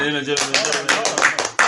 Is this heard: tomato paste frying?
no